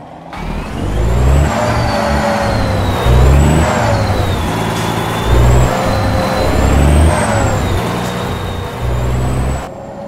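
A Western Star 49X truck driving in Euro Truck Simulator 2 drones steadily up close, its engine hum rising and falling with gear changes, high whining tones drifting above and low rumbling pulses underneath.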